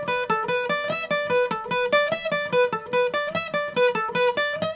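A requinto guitar plays a lead riff at fast tempo, a bright, close run of rapid plucked notes in a repeating pattern, loud and alone.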